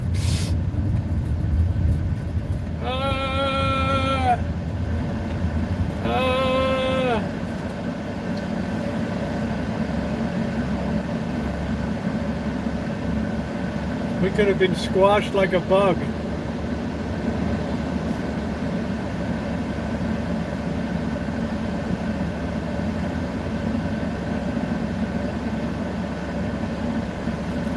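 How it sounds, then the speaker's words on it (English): A train passes close by with two loud horn blasts near the start over a continuous low rumble, and a brief metallic squeal follows later. A voice speaks briefly. "Alright, here comes the train."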